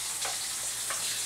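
Garlic, shallots, ginger and chili hit a hot pan, a steady bright sizzle with two soft stirring scrapes, close and continuous.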